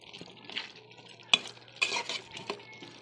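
Beef curry being stirred in a frying pan, with scraping spoon strokes over a low sizzle and a few sharp clinks of utensil against metal, close and moderately loud, no talking.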